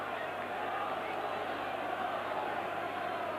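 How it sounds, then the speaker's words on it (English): Rugby league crowd at a 1985-86 JPS Regal Trophy semi-final, Hull Kingston Rovers against St Helens, roaring steadily for Rovers on the attack, a dense continuous swell of voices with a commentator talking over it. "Rovers crowd getting behind the favourites now"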